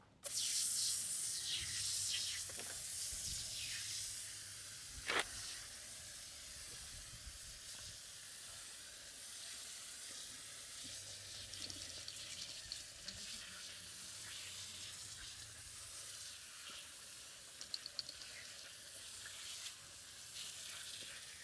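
Acid wheel cleaner foam is sprayed onto car tyres and rims, followed by a steady hissing rinse of water that runs throughout, with a few sharp spray bursts, close and fairly quiet.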